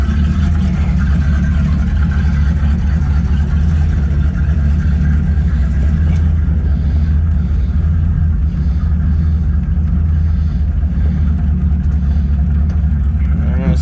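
A car engine with badly off timing rumbles low and heavy, revving and straining as the car drives up the driveway, loud and close.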